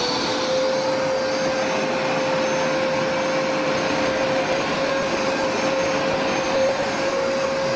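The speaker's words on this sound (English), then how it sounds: "So we're using this carpet cleaner, but check out how well this works." A carpet cleaner runs continuously on carpet damaged by a leaking air conditioner, a loud, steady motor whine and suction roar with a constant tonal hum and no breaks.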